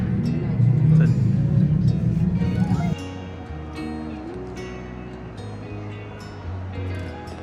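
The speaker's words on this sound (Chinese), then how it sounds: "伴随着飞机引擎的噪音和 甚至有酥麻的震动感" Simulated airliner engine noise fills a modern aircraft exhibit in a Detroit museum as a steady low drone, loud at first and then dropping to a quieter hum, with faint voices in the background.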